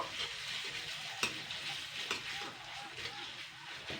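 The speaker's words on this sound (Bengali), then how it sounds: "আদা রসুন বাটাটা দিয়ে দিচ্ছি এটা আমি এর সঙ্গে না হালকা নাড়াচাড়া করে নেব" Ginger garlic paste frying with onions in a pan for a taro leaf dish, soft steady sizzle broken by a few sharp spatula clicks and scrapes, quiet and close with no talk.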